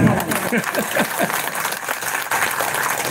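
A live audience at a Hindi poetry recitation claps steadily, moderately loud and close, with voices mixed in beneath the applause.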